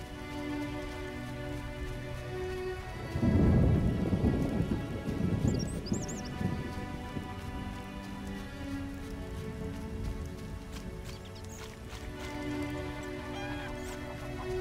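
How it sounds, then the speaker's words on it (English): Steady rainfall in The Witcher video game with a loud rolling thunder rumble swelling and fading early on, over a low humming game music bed. "Rain."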